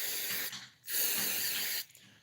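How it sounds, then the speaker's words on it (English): Flammable degreaser sprayed from an aerosol can onto an oily part, two hissing bursts of about a second each, close and fairly loud, with a short pause between. "Just kind of a degreaser. Well, it is a degreaser. Very flammable as well."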